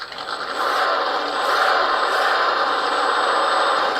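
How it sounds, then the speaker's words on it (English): A small 1/18-scale RC rock crawler plays a simulated engine sound through its onboard speaker, a steady buzzy electronic drone that rises in level after the first half second and then holds close and constant. "notice that the engine sound just increased"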